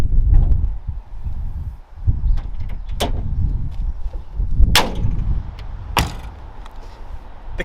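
A slammed classic VW from the 1990s clunks and bangs now and then while being driven, sharp loud knocks cutting through a rumbling road and engine noise, close to the car's body, with no talking.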